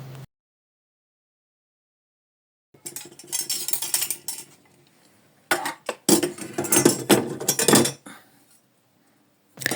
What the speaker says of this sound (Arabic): اقوم الحق نفسي كده واغسل المواعين